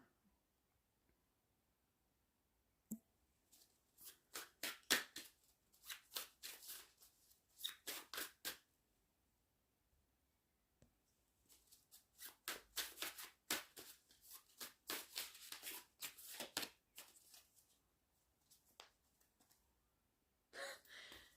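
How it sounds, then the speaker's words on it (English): Spirit animal oracle cards being shuffled and drawn by hand, with bursts of quick riffling and soft card slaps alternating with pauses of near silence, close and fairly quiet. "let's just pull up one of these spirit animal cards and then I'll go"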